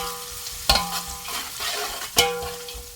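Chicken curry base with whole spices and bay leaves sizzling in a pan, stirred around with two sharp utensil scrapes against the pot over a steady frying hiss.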